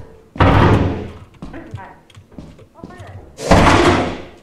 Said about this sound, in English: What's that noise? It's the door.